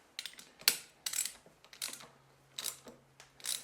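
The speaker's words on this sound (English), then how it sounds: "Now I can put my 5/8 spark plug socket on there to tighten it up." A 5/8 spark plug socket on a ratchet tightening a spark plug on a Ryobi inverter generator: a series of crisp, close ratcheting clicks in short bursts, with brief pauses between strokes.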